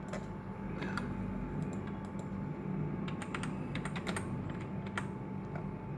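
Steady typing on a computer keyboard, close and moderately loud, with irregular clusters of key clicks over a low background hum.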